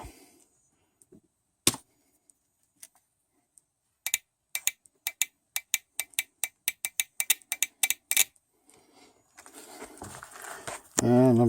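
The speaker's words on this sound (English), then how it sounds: "you'll hear the injector click as you touch it." Sharp, dry clicks of a fuel injector pulsing as its leads touch a battery terminal, a dozen or so irregular taps clustered close together, followed by a short hiss of pressurized spray.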